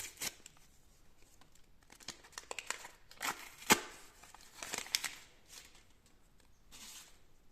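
Crinkly paper rustling and tearing as a small SpongeBob-themed paper surprise packet is opened, with sharp crackling bursts scattered through the clip and a few louder rips near the middle, fairly close and without talk.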